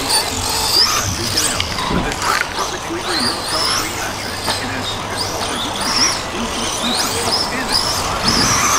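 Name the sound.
Tekno EB410 RC buggy with HobbyWing ESC driving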